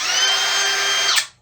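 A DeWalt DCW600B 20V cordless router starts up and runs at a loud, steady high-pitched whine for about a second before winding down as it is switched off.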